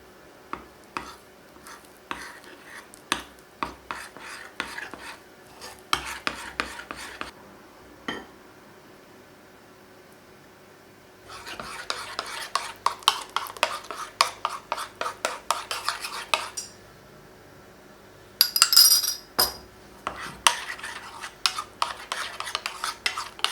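A utensil stirs butter and coffee into a small bowl of chocolate cake batter, giving bursts of close scraping and light clinking against the bowl, broken by a quiet pause partway through.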